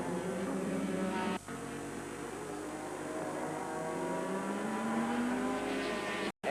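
A number 67 Busby Nissan race car runs on track during a 1990 IMSA race at Heartland Park, its engine a steady, continuous drone with a slowly rising pitch and a brief cut near the end.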